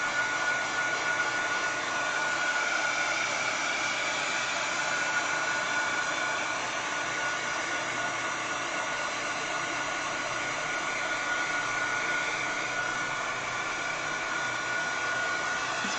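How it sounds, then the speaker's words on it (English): A hair dryer blows over wet, sparkly Mod Podge craft glue, giving a steady, unbroken whirring hiss that holds at an even, fairly loud level throughout with no talking. "Now we're just drying up the Mod Podge."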